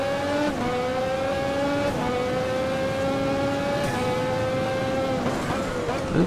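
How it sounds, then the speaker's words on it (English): A 1988 Formula 1 race car engine in a racing video game drones loudly and steadily, its pitch stepping through shifts, with occasional turbo-like whooshes under braking as it slows. "Turbo noises under brake are quite nice, even if they should not be in this car."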